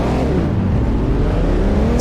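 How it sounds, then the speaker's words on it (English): A banger racing car engine keeps running on the track at Stoke after a crash, a steady loud drone with a slowly rising pitch and no break. "So, somehow 103 Kane Johnson's car is still running."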